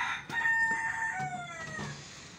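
A rooster crows with a long, harmonic call while hens of Misri, Desi and Aseel breeds cluck softly nearby, close and fairly loud, with no talking.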